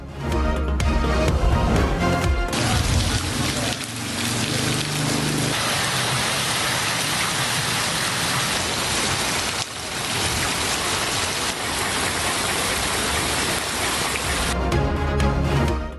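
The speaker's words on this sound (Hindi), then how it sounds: "मूसलाधार बारिश से हर तरफ पानी ही पानी।" Heavy monsoon-type downpour in Sargodha, Pakistan, pours down steadily, a dense loud hiss of water on surfaces, with brief bursts of other sound at the start and end.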